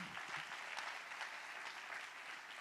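Church congregation applauding the Lord during a sermon: dense, steady clapping from a large crowd, soft and somewhat distant, continuing evenly throughout with no voices on top.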